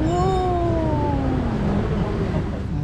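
At a Buddhist temple on Phuket Island, a cat lets out one long, drawn-out meow that slides downward in pitch, close and clear, over a low background rumble.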